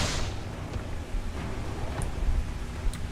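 In the Hogwarts Legacy video game, a Confringo fire spell blast bursts with a low, rumbling boom, followed by dull thuds and crackling impacts amid busy combat noise.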